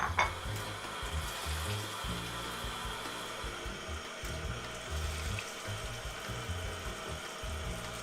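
Beans tumble into a large pan of boiling salted water, giving a steady bubbling, hissing wash with low rumbling surges, close and continuous throughout without speech.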